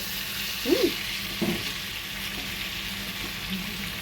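Pointed gourd and prawns sautéing in a pan for patol chingri, a soft continuous sizzle with a few brief stirring scrapes early on, no talking.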